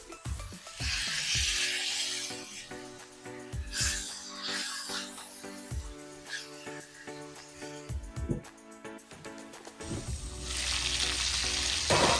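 Loud crackling sizzle of chicken pan frying, with occasional clanks of utensils and a burst of hissing near the end.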